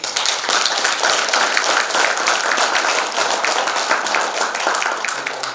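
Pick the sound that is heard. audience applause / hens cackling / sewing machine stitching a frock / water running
audience applause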